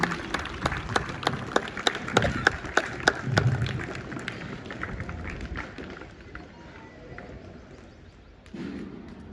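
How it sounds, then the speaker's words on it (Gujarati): Audience applause at a Hindu community gathering, a dense burst of clapping with sharp claps up front that thins and fades over several seconds, with brief voices near the end. "આપણે બધા ફરીથી તાળીઓથી એમનું અભિવાદન કરીએ."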